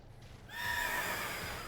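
Spectrier, the ghostly horse from Pokémon Shield: The Crown Tundra, lets out a single loud, drawn-out whinny that begins abruptly after a brief quiet moment and holds its wavering pitch to the end.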